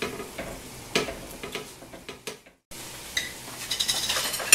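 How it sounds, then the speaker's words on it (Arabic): A spoon stirring a chicken dish in a pot, with clattering scrapes against the metal over a soft sizzle and a brief silent gap midway, with no talking. "وغادي نخلط كلشي مزيان، نغطي عليها ونخليها تطيب دغيا"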